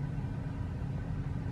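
A car rumbles over a bumpy road on the way to a campsite, giving a steady, dense low rumble of engine and road noise from inside the vehicle, with no voices.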